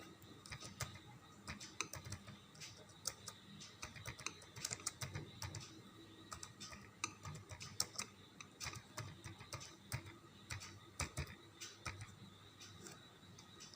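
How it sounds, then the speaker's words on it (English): Keys clatter on a computer keyboard in steady, quiet runs of close clicks with brief pauses, over a faint room hum. "Okay, I'll type the condition."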